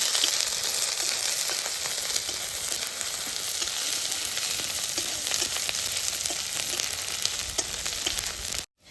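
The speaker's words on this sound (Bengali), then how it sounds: "ভালোভাবে মাছগুলি ভেজে নিই।" Dried fish (shutki) frying in a pan gives a dense, loud, continuous sizzle with fine crackling, close to the ear, running unbroken until an abrupt stop at the end, with no talking.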